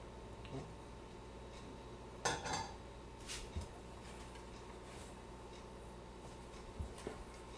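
Flour, salt, milk and butter for a cauliflower and quinoa flatbread dough are mixed in a bowl, giving faint, sparse scraping and a few soft clinks of a utensil against the bowl, with one brief louder clatter.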